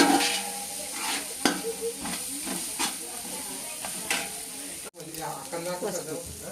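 Masala for chicken dum biryani fries in a hot pan, with a continuous close sizzle and hiss broken by repeated scraping strokes of a spoon stirring it, plus one brief dropout near the end.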